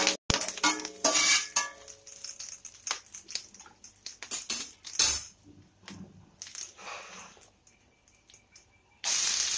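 Cashews and curry leaves fry in a pan with a crackling, spitting sizzle. Utensil clinks and scrapes come and go, and a loud burst of sizzle returns near the end.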